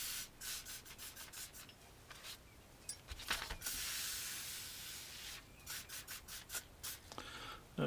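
Short hissing bursts of WD-40 spray onto a rusty bayonet blade repeat in quick succession, with a longer continuous spray in the middle, close by and fairly quiet.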